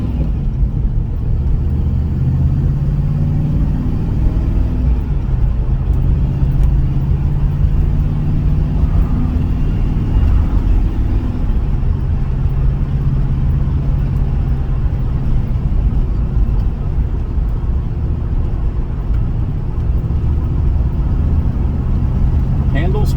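A 1978 Pontiac Trans Am WS6 with a 400 V8 and four-speed manual cruising, a deep steady engine rumble and low exhaust drone filling the cabin from start to end, with someone talking over it.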